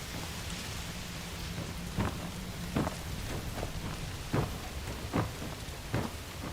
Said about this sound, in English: It better get inside before this downpour soaks you through.